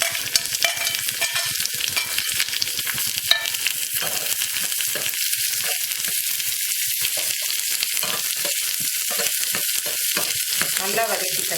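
Toor dal and greens sauté in a pan for keerai kadaiyal, a loud, constant, close-up frying sizzle with irregular stirring scrapes throughout.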